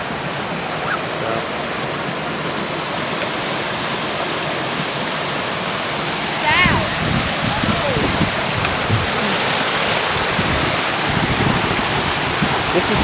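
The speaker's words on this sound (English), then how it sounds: "So there's a little waterfall here." A small waterfall in the Adirondacks gives a steady, loud rushing roar that fills the whole stretch without a break, heard from close by, with faint voices partly mixed into the water noise.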